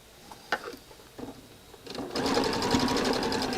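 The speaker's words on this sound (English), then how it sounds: "I'm going to stitch this." A sewing machine stitches quilt pieces, starting with a few short clicks and taps, then running up into a steady, fast mechanical whir that stays loud and close to the end, with no voices.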